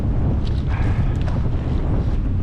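Strong wind buffets the microphone on a kayak fishing outing, a constant low rumbling roar with faint splashes and creaks of the boat mixed in.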